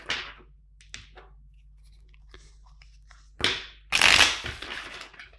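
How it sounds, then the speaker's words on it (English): Tarot deck being shuffled by hand, a few soft papery riffles and taps over quiet room noise, ending in a louder, longer riffle burst near the end. "let's shuffle 5 times the deck"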